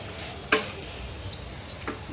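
A spoon scrapes and stirs jaggery with a spoonful of oil in a kadai while making peanut chikki. One sharp scrape stands out, followed by faint, quieter stirring against a soft background hiss.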